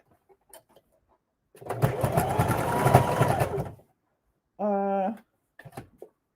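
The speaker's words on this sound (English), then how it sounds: "So I'm just gonna sew this down shut." Sewing machine stitching a lunch tote bag shut, a single rapid mechanical run lasting about two seconds in a quiet room, followed by a short vocal sound and a few faint clicks.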